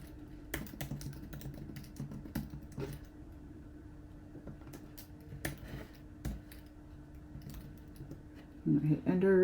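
Close, crisp keystrokes on a computer keyboard as a terminal command is typed in, an irregular run of clicks and taps spread across the whole stretch, with a brief faint voice near the end.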